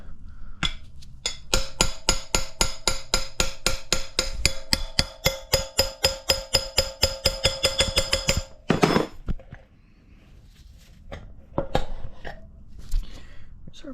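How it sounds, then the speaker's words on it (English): Rapid, steady metallic hammer blows ring out close by as a rear axle bearing is hammered out of a Honda XR200 dirt bike, a long run of sharp strikes with a brief pause before a few scattered knocks. "I'm gonna have to hammer that out."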